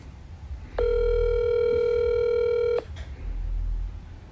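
A telephone tone on a call from jail sounds as one steady, loud, clear beep of about two seconds, then cuts off into quiet line hiss.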